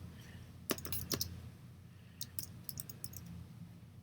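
Light keyboard typing at a computer during image-editing work, a few short bursts of quick, close clicks separated by pauses, faint and alone with no talk.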